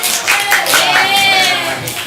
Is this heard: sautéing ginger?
no